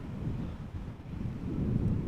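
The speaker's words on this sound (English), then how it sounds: "it is a rather windy day" Strong wind at Amsterdam Schiphol Airport buffets outdoor microphones, giving a continuous low rumbling roar that swells and dips in gusts.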